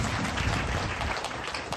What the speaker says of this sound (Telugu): బిగ్గరగా చప్పట్లు కొట్టి